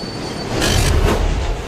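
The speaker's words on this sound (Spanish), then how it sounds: "En Nueva York se han añadido nuevos trenes en la red de metro." A New York subway train rumbles loudly along the rails, a steady roar with a brief burst of hissing, squealing wheel noise in the middle.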